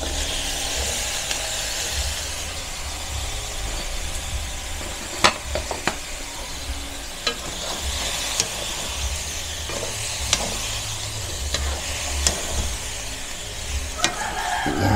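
Baguio beans sizzle in a hot pan as they are sautéed, with a constant frying hiss broken by sharp clicks of a utensil stirring and scraping against the metal.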